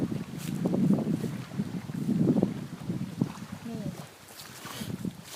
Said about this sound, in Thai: ลม แรง ลม แรงมากพี่น้องจ๋า ขอบอกเลย